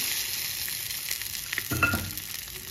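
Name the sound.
dal (lentils) being stirred and dried in a frying pan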